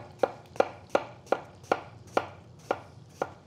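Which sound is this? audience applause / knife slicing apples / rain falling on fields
knife slicing apples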